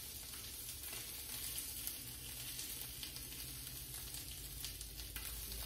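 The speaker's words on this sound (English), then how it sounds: "So we're just going to let that saute." Pan-seared salmon sautéing in a hot pan on the stove, a steady close sizzle and crackle of frying that runs without pause, with faint stirring and no voices.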